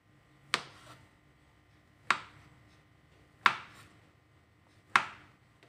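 A knife cuts a block of tempeh for tempe bacem into thick slices, four crisp, evenly spaced chops landing on a board about every one and a half seconds in a quiet room.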